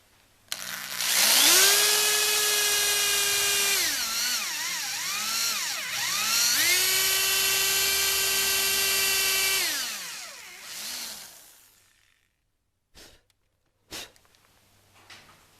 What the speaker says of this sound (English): I'm going to go ahead and start drilling this piece.